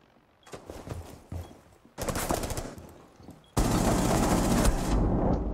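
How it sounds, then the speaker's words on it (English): Automatic rifle fire into a wall in Rainbow Six Siege, sparse shots building to sustained loud bursts and a long heavy volley near the end, close and harsh. "No, shoot the wall on your left."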